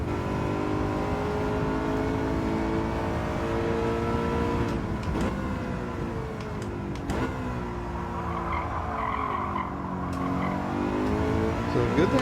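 BMW race car on terrible tires in a racing video game at Autopolis, engine revving through rising and falling gear sweeps with sharp shifts and brief tire squeal, steady and close throughout.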